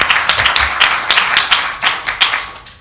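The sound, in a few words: audience applause for debate candidates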